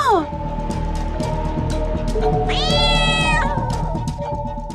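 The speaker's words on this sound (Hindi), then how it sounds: "ये तो बिल्ली है।" A cat meows loudly nearby, one drawn-out rising and falling cry over a background of music and a short descending tone.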